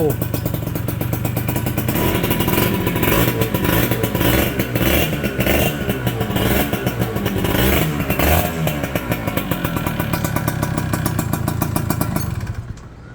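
A two-stroke Kawasaki Victor motorcycle from the 1990s, original and unmodified, revs steadily and loudly with a buzzing, crackling engine note that holds for about twelve seconds before cutting off, with talk faint underneath.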